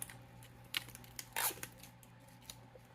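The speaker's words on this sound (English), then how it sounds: "you gotta remove some tape on the inside" Adhesive tape is peeled from inside an iPhone 13 Pro Max, a faint close crackling rip with a few small ticks and a brief louder tearing burst midway, over a quiet low hum.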